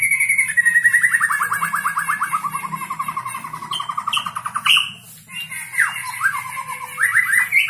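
White-rumped shama (murai batu) songbird chirping close by, a rapid series of bright whistled phrases and trills with a brief pause midway, loud and varied, over a faint low background murmur.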